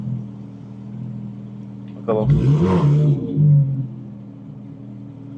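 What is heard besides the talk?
car accelerating, engine revving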